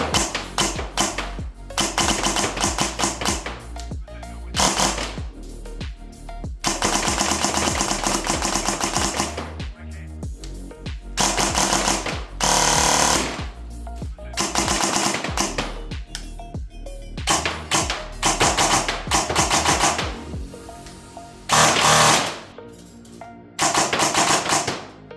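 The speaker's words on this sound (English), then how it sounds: "I'm gonna do some shooting with the chronograph, so you can see the power as well." An SSR9 DSG airsoft gun powered by an 11.1 V LiPo battery fires full auto in loud, rapid bursts of mechanical clatter, separated by short pauses, with several strings running over a long stretch.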